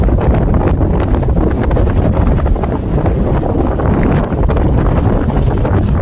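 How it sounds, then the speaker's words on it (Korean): Strong wind blowing across a lotus pond fishing spot for crucian carp near Seosan, South Chungcheong, loudly buffeting the microphone in a constant roar with no talking. "지금 이제 바람 불고 있는데요"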